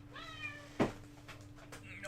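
A cat gives a few short, fairly close meows, broken by a brief thump partway through, over a steady low background hum with no talking.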